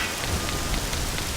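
Rain falling indoors in the video game The Legend of Zelda: Ocarina of Time, a steady dense hiss of drops pattering on a surface, continuous and fairly loud with no voices.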